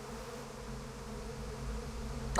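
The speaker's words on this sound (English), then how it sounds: "Want me to kill those bees?" Bees in the Psychonauts 2 video game give a continuous, fairly faint droning buzz that holds steady and swells slightly at the end, with no one talking.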